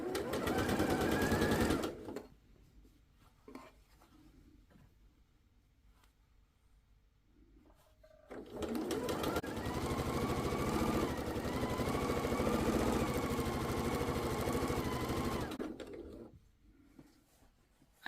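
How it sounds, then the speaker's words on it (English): A sewing machine stitches quilt blocks together in two loud, steady runs of whirring, separated by a quiet pause of light handling noises. "I'm going to sew these together, and I'm also going to sew all the other ones together"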